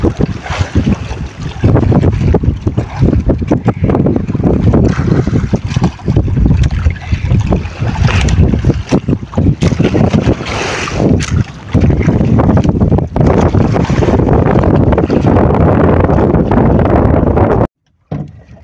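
Wind blowing hard on a fishing boat at sea, a continuous loud roaring gust buffeting the microphone, with rushing water and engine rumble beneath, cutting off abruptly near the end.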